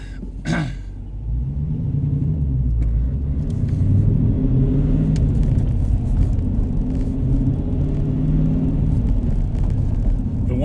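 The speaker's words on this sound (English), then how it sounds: "I'm sure you can hear the road noise, but I'm going through a heavily constructed area, lots of bumps in the roads." Steady low road rumble fills the cabin of a 2019 Dodge Challenger R/T Shaker with a six-speed manual while it drives over bumpy roads through a construction zone, with occasional faint knocks.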